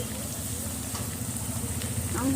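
Potatoes fry in a pan for a rohu fish curry with drumsticks, giving a low steady sizzle with faint stirring scrapes, close and fairly quiet throughout.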